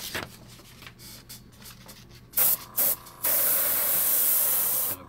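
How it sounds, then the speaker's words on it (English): An airbrush spraying orange paint onto paper: after soft handling noises, two short loud bursts of spray hiss, then a longer sustained hissing jet lasting nearly two seconds, close and alone without talk. "I can spray some on some paper and find out what it actually looks like when it's laid down."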